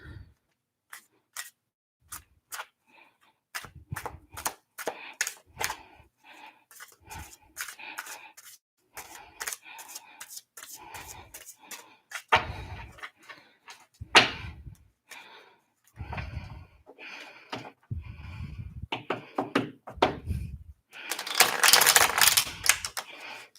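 A tarot card deck being shuffled by hand, quick riffling bursts and soft slaps in irregular clusters, close and fairly crisp, ending in a longer flurry of cards.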